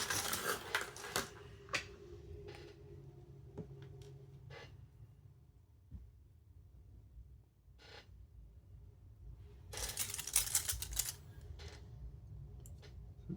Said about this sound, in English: Struggle with the packaging here.